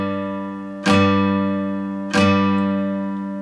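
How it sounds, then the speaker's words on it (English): A guitar G octave is plucked twice about a second apart, each note ringing clearly and fading slowly, with no talking. "And that G octave would sound like this."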